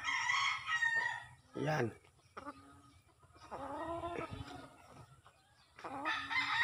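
A sweater gamefowl rooster crows loudly and close in several drawn-out bursts, with short clucks between, while someone speaks briefly.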